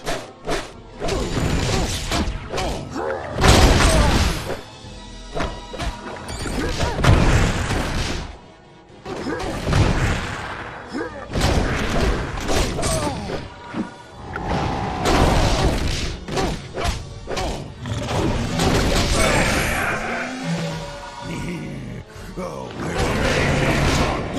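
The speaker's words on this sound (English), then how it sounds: "Hulk done smashing this one." Hulk smashing objects in the Marvel: Ultimate Alliance video game, bursts of loud crashes, thuds, whooshes and shattering debris in repeated clusters separated by brief lulls, with some game voices mixed in.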